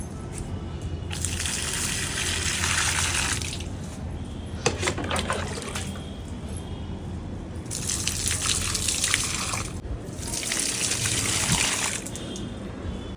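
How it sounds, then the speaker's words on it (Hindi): Water pours onto plants in several bursts, each gushing and splashing for a few seconds, with quieter pauses between them. "अभी फ़िलहाल मैं पौधों को पानी दे देती हूँ।"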